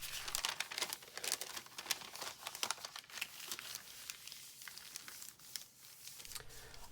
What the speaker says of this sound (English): opening up your paper bag and just flattening everything out and making it nice and flat